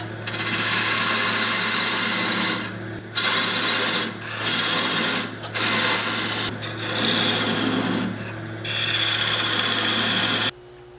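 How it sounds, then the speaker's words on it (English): A narrow parting tool cuts into a wooden goblet spinning on a lathe, giving a loud, close, continuous rasping hiss broken into several long passes by short pauses, over a steady motor hum. "I'm going to take a narrow parting tool right there"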